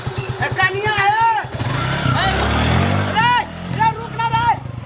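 A motorcycle engine revs and rumbles for a couple of seconds, partly buried under loud, excited voices talking and shouting.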